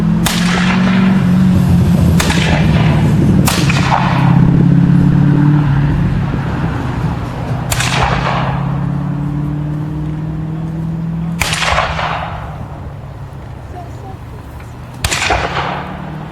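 Muskets fire at an English Civil War reenactment in a string of loud, sharp reports spaced a few seconds apart, each cracking and then echoing briefly over a steady low rumble.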